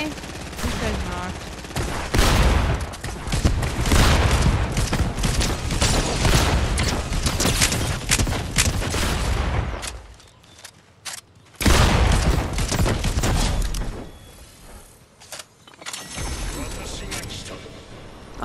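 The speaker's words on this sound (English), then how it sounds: "He just started shooting at me." Fortnite gameplay gunfire comes as dense bursts of rapid shots and booms, with short pauses between volleys and a person talking over the action.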